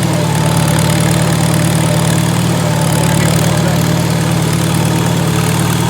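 An International Harvester Super A tractor with a 4-cylinder engine idles close by, a loud, steady low rumble with an even mechanical throb and no talking.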